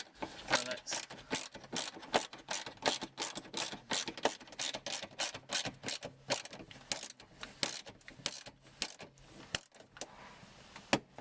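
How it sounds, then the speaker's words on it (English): A ratchet tightening nuts and bolts while a raised air intake snorkel is fitted to a Toyota Hilux Mk6/7 Vigo pickup, rapid rhythmic clicking in short bursts, close and fairly quiet. "we've just tightened up the 6 nuts and washers underneath on the inside of the wing"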